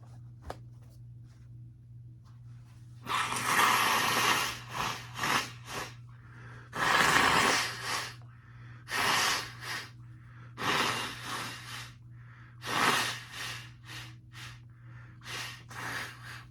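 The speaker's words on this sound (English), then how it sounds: "I'm gonna blow my nose." Someone blows their nose in a quiet room, a series of loud, rough bursts of air spread over several seconds with short pauses between them, over a steady low hum.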